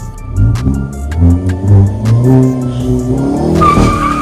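A 2021 Hyundai Veloster N with a manual gearbox accelerates hard, its engine rising in pitch through the revs with tire squeal mixed in, loud and close from inside the car, with no talk over it.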